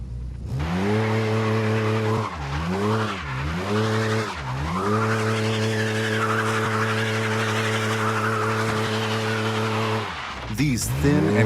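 A cheap car on thin, worn tires struggles up a steep hill climb in BeamNG Drive, the engine droning and revving while the tires screech and scrub in a long, steady skid before it falters.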